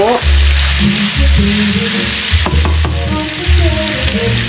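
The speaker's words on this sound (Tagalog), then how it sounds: "Stir-fry natin sa bawang at sibuyas." Garlic and onion stir-fry in a hot pan for pork menudo, a loud steady sizzle broken by bursts of scraping and stirring, close and without voices.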